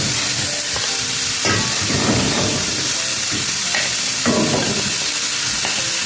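A pot of boiling water with zucchini bubbles and hisses steadily, with occasional stirring and clinking of a utensil, up close and without talk.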